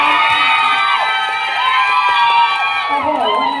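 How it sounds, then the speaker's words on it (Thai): A large, excited crowd at a hospital heart-health event cheers and screams shrilly for a young celebrity guest, a loud sustained roar of high-pitched voices with clapping mixed in. "ขอเสียงปรบมือกับน้องโตโต"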